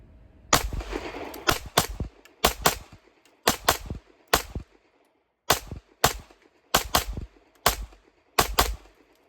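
CZ Shadow 2 Compact pistol fired at a range in quick pairs and singles, a series of sharp, loud close reports with short gaps between bursts, no talk.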